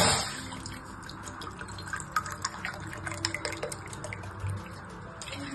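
Water poured from a cup into a cooking pot, a steady close splashing trickle with small drips and bubbles, continuing without voices.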